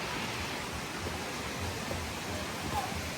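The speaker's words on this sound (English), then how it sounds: "We made it to the other waterfall." Steady broadband rush of water from a waterfall at the end of a climb up steps, a dense continuous roar filling the whole clip with no clear voices over it.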